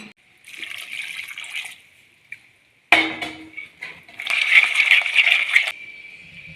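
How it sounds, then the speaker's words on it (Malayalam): Water poured from a vessel into crab curry cooking in a pan, giving two bursts of splashing and trickling with a brief clatter between them, fairly close and with no talk. "നമുക്ക് ഇതിലേക്ക് വേവാൻ ആവശ്യത്തിന്റെ കുറച്ച് വെള്ളം ഒഴിച്ചു കൊടുക്കണം"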